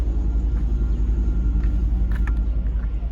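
A 2017 Mercedes-Benz E 550 Convertible's dual exhaust gives a deep, steady rumble at idle close by, low and throbbing with a slight pulsing rhythm, no voices.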